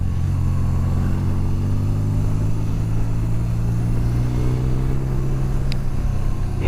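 A 1996 BMW R1100 RS motorcycle engine drones steadily while riding, a loud, close, low rumble with shifting engine tones and constant wind noise, and no talking.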